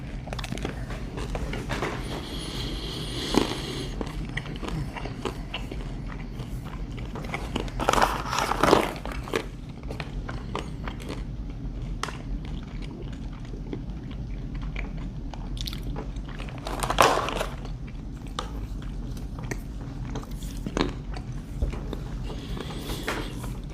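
Chewing and crunching on MRE trail mix of M&M candies and walnuts, a steady close mouth-noise texture with a few louder crunchy bites standing out, no talking.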